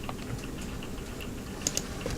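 Typing on a computer keyboard, with quiet, steady key taps close by and a few slightly sharper clicks near the end, with no talk.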